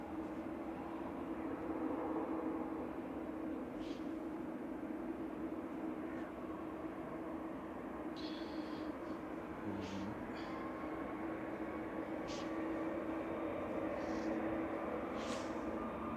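A distant aircraft rolls along the runway at Manchester Airport, heard as a faint, continuous engine drone over steady background noise, with a few brief clicks and no clear talk.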